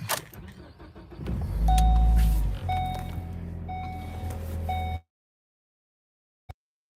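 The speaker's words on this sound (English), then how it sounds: "Hold on, I'm gonna start the car." A car engine is started and idles steadily for about five seconds, with electronic chimes and beeps sounding at regular intervals over the low rumble before the sound cuts to silence, followed by one brief click.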